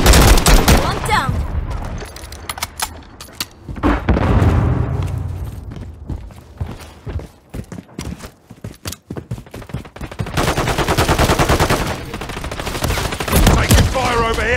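Dense bursts of automatic gunfire and heavy blasts from a Call of Duty Modern Warfare 3 match, loud and close, with rapid volleys and a few booming impacts in between.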